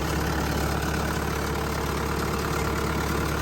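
The engine of a 2015 Bobcat T750 skid steer idles close up with a steady, dense, even rumble that does not change for the whole clip, and no voices.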